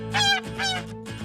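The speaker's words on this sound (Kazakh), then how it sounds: "Бұл қаз." A domestic goose gives three loud, nasal honking calls in quick succession, each a short harmonic blast close to the listener.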